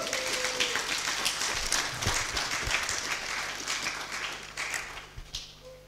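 A church congregation bursts into sustained applause, dense clapping that stays strong for several seconds before gradually easing off, with a few scattered voices mixed in.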